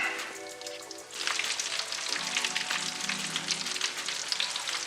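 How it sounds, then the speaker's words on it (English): King crab legs deep frying in hot oil, a loud, dense, steady sizzle that bursts in after a quieter opening second and crackles on without pause. "So we're done deep frying our crab legs"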